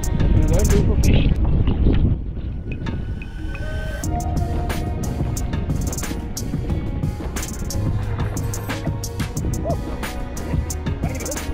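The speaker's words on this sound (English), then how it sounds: "we're fishing in a 20 plus kilometer hour wind" Strong wind over 20 km/h buffets a microphone while kayak fishing at sea off Mossel Bay, heavy gusty rumble up close with splashing water and people talking throughout.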